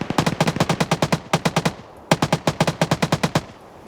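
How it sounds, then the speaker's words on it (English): Machine gun return fire in a military video game: two long, rapid bursts of evenly spaced, loud, punchy shots, each burst about a dozen rounds, separated by a brief pause, with no talking. "now they're receiving a lot of return fire"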